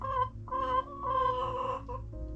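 Hens cluck and call near nesting boxes as they come in to lay eggs, a close run of drawn-out, slightly strained vocalizations with short breaks between them.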